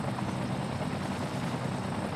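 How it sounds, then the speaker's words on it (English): Fire helicopters in the city-building game Cities Skylines douse tree fires with a steady, moderately loud rotor whir that continues without pause. "The fire helicopters are putting out the last of the tree fires."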